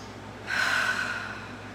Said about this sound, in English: And then breathe.